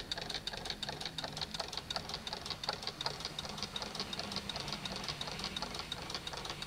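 A homemade piston-type electric motor prototype runs steadily, giving a fast, even mechanical knocking and ticking rhythm like a sewing machine, close and fairly quiet.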